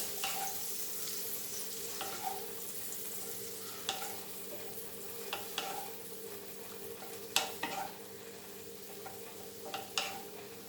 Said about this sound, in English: stir fry this. Let the butter get coat to this.